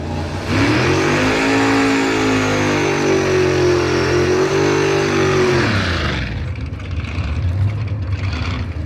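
A Hemi-powered drag car roars hard off the starting line, engine revving loud and close with a rising, sustained blare for about six seconds before cutting off and fading into lighter background noise.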